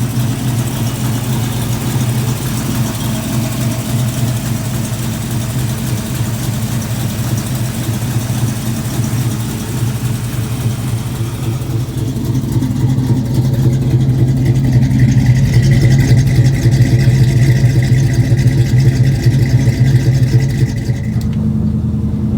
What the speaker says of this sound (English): let's take it for a drive